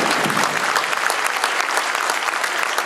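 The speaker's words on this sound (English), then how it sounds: "So go ahead and give everybody a round of applause." A banquet audience breaks into dense, sustained applause, many hands clapping loudly and evenly from start to finish with no talk over it.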